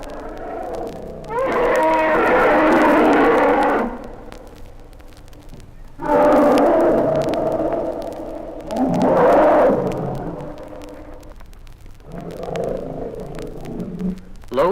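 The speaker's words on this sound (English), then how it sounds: "A loud throat roar is caused by extreme anger." An angry Indian elephant lets out loud, harsh throat roars in three or four long bursts, close and forceful, separated by short quiet gaps.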